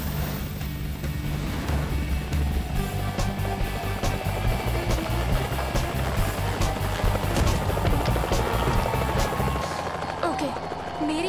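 A cartoon helicopter's rotor chops and whirs continuously at a steady, fairly loud level, with layered mechanical hum and music-like tones throughout.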